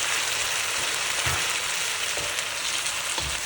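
Chopped tomatoes fry in a pan with onions, green chilies and ginger, a steady close sizzle with a few soft stirring scrapes.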